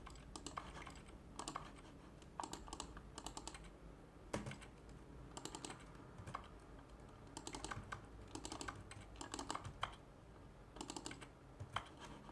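Rapid typing on a computer keyboard, the keys clattering in irregular bursts with short pauses and sharp louder keystrokes, close and steady with no speech over it.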